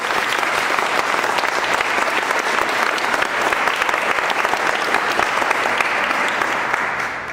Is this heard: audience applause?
yes